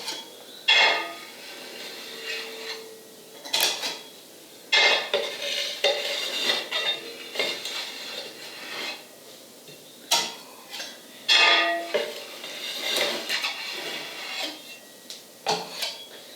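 Spatula spreading frosting over a galaxy cake in sections: intermittent scraping and tapping strokes, close and fairly loud, in irregular bursts with brief pauses between.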